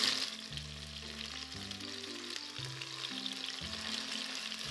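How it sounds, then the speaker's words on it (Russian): Steady sizzling of cutlets frying in hot oil in an open multicooker, continuous and close, with a low electronic hum underneath. "когда жарим, обжариваем при открытой крышке мультиварки"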